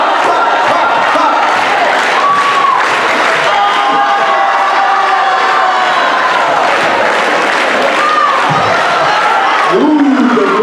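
High school student recognition assembly crowd clapping and cheering, loud and sustained throughout, with shouts and whoops rising above dense applause in a large echoing room.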